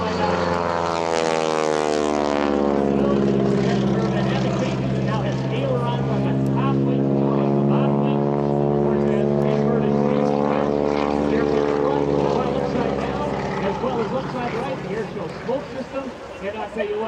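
A loud, continuous roar of a radial-engine propeller aircraft with a throbbing engine drone that shifts in pitch as it passes nearby at an air show, a voice faintly under it.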